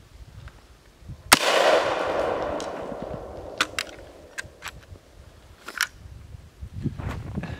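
Winchester 1887 12 gauge lever-action shotgun firing an original brass shell loaded with black powder: a single loud, sharp blast with a lingering decay, followed by scattered clicks and clanks of handling.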